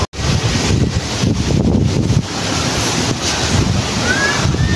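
Steady rush of sea waves breaking along the shore with buffeting wind across the microphone, continuous and fairly loud.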